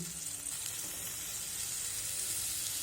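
Sour yogurt goes into masala frying in a pan, giving a steady, loud sizzle with a hissing wash throughout and no talking.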